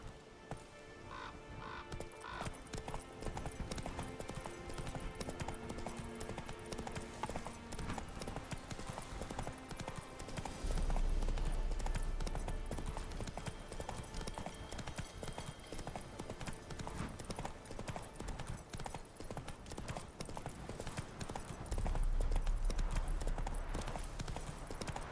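Roach, the horse in The Witcher 3, gallops across Skellige, her hooves drumming in a steady rapid clip-clop rhythm under game music and ambience for the whole stretch.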